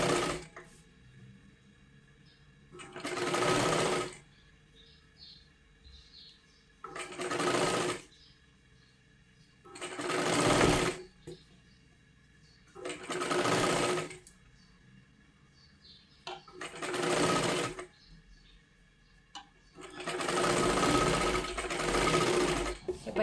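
A sewing machine stitches a katori blouse in six separate bursts of a few seconds each, with quiet pauses between them, close and clear.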